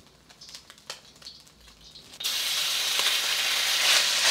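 Oil hisses in a pan during Cantonese home cooking. After a few scattered light taps, the sizzle jumps sharply to a loud, continuous frying crackle that holds steady.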